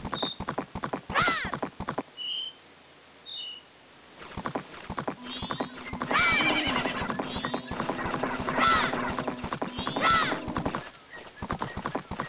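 Horse from The Legend of Zelda: Majora's Mask video game, rapid hoof clip-clops in galloping rhythm with several sharp whinnies, loud and close, broken by a short quieter gap with faint game chimes.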